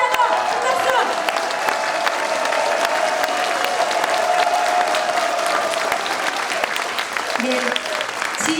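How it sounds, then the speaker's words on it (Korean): A large crowd claps steadily at a Korean rally about alleged election fraud in the 4.15 general election, with dense, sustained applause filling the space throughout and a few faint voices mixed in. "우리 다시 한번 힘내시라고 큰 박수!"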